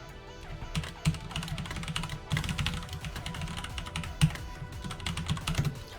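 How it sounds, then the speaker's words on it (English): Steady computer keyboard typing at close range during a software development session, with irregular bursts of keystrokes and a few sharper, heavier taps, and no voices. "Apparently I'm picking up my keyboard a little bit more than it was before"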